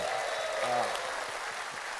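An audience applauds steadily at a formal event welcoming Indonesian presidential candidate Ganjar Pranowo, a dense even wash of clapping throughout.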